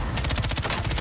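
Rapid automatic rifle fire from an M13 in the Warzone shooter, a dense, loud burst of closely spaced shots running continuously for about a second with no voices.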